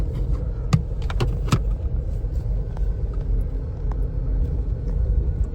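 Jeep rolling down the road, a steady loud low rumble of engine and tyres with faint rattles and a few sharp clicks from inside the cab.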